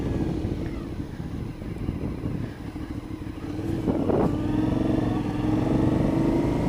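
An Aprilia Shiver 750 motorcycle is under way on a ride home. The engine drones steadily with wind rush over the microphone, and the pitch rises as it accelerates toward the end.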